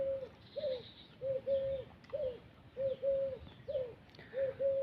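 A watercock (kora bird) calls repeatedly: about a dozen short, hollow, tonal notes in a fairly even rhythm, moderately close against a quiet background.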